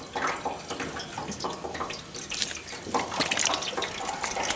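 Maple sap runs through a tube into an evaporator pan with a soft, continuous trickle and splash, fairly faint and steady throughout.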